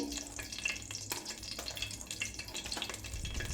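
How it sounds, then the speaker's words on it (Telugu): Cumin seeds and urad dal crackling in hot oil for Kerala-style pongal, a loud, close, continuous sizzle with no voices. "1 స్పూన్ జీలకర్ర, 1 స్పూన్ మినపగుళ్ళు వేసాము."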